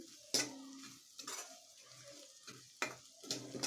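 Kashmiri chili powder sautéed with ginger and garlic in a pan for paneer Kolhapuri, a quiet sizzle broken by a few sharp scrapes and clinks of a spoon, heard close with no talking.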